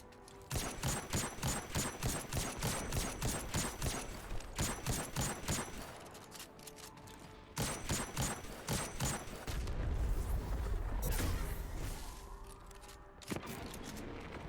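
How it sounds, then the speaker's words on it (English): Destiny 2 firefight with rapid bursts of automatic gunfire, then a heavy rumbling grenade blast that swells and fades, followed by more shots, loud and busy with no talking. "Oh, that was a solid grenade."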